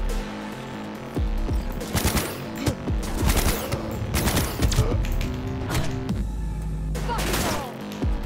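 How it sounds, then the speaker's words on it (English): Bursts of automatic fire and single shots ring out in a Cyberpunk 2077 gunfight, loud and clustered in rapid volleys over a humming game backdrop. "Someone shooting me from behind?"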